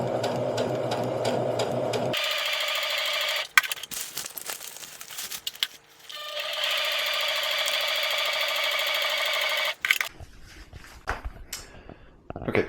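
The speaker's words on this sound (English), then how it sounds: "at this point I've sewn on my 2 panels with my first stitch" A sewing machine stitches two fabric panels together with a durable, fairly waterproof first seam, a close, fast mechanical whir running in bursts and stopping, with short pauses and handling noises between runs.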